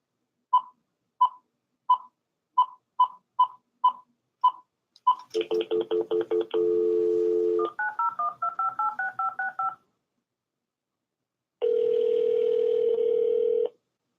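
A telephone line dials: a run of about ten evenly spaced touch-tone beeps, then warbling call-progress tones, a steady tone, a pause, and a final long tone, all clean and alone.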